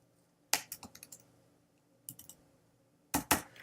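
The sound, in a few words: typing code on a computer keyboard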